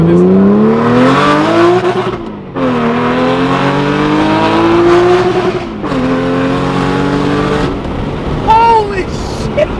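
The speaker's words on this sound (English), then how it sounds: "This car sounds absolutely insane! No 996 GT3 will ever sound like that." Supercharged, 500-horsepower modified Porsche 911 996 engine, loud and close, rising through gears in repeated revving pulls with brief drops between shifts, speech faint underneath.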